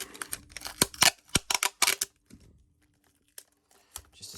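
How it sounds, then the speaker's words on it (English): Packing tape pulled and pressed onto the top of a shipping box: a quick cluster of close ripping and crinkling bursts, then near silence with a few faint taps. "And we'll put a piece of tape on the top."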